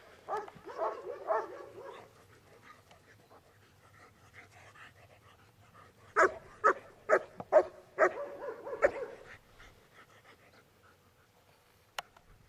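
A police K9 dog at an obedience certification whimpers and pants, with sharp yips and barks in a loud cluster midway through and one final bark near the end.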